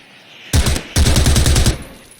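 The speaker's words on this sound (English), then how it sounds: "will fire in and bring Hendrix down to 50 health" Automatic weapon fire from a tactical shooter video game, a short burst followed by a longer rapid volley of evenly spaced shots, loud and close with no voices.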